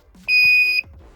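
A 2001 Mercedes SLK 170 with a low battery sounds one loud, steady electronic warning beep lasting about half a second. A faint voice can be heard before and after it.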